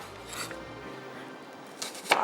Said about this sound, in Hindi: बाकी की हमने प्याज को कर लेना है स्लाइस।